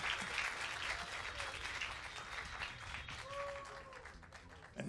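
Spectators at a skeet shooting competition applaud the referee for his birthday, a moderately faint, steady patter of clapping that carries on for several seconds, with a brief tonal whistle-like sound partway through.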